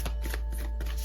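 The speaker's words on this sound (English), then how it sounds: "I'm going to keep shuffling" Tarot cards are shuffled by hand in a steady run of quick riffling rustles, close and fairly loud, with a constant low hum underneath and no speech.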